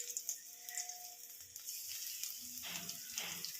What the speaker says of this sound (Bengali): রসুনটা একটু ভাজা হয়ে গেলে দেখুন ফুটফুট করছে।